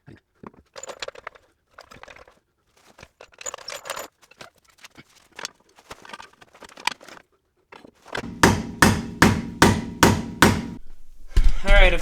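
Hammering a part up into the rear subframe of a 2022 Subaru WRX: a run of about eight sharp, evenly spaced metallic blows, loud and close, ending in a heavier knock, after scattered quieter clinks and handling noises.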